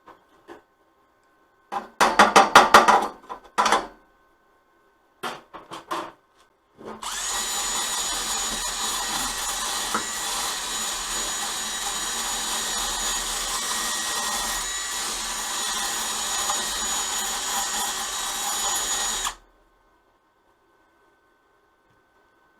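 Welding a Murray go-kart frame: a few short bursts at first, then a loud, steady crackling hiss lasting about twelve seconds before cutting off to silence.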